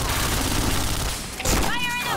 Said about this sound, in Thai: ใส่ก็ยังยิงไล่ยิงอยู่นะฮะ